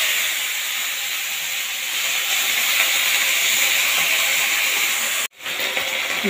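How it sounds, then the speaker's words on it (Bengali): Spring onion leaves hiss loudly and steadily in hot oil that has just been used to fry poa bhola fish, with a brief cutout near the end. "এবার ওই তেলের মধ্যে আমি সবার প্রথমে দিয়ে দেবো পেঁয়াজের পাতাটা"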